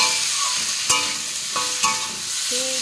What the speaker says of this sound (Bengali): তাতে কাঁচা লঙ্কা দিয়ে দিলাম, লবণ, হলুদ আর আদা দিয়ে সজনে ডাঁটা দিয়ে ভালো করে কষিয়ে নিলাম।